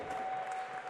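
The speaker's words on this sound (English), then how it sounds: "let's get a big round of applause for these two fighters" Applause for two mixed martial arts fighters at a Cage Titans cage-fighting event: a dense, steady wash of clapping from an arena crowd, fairly distant, with a tonal hum running underneath for the full second.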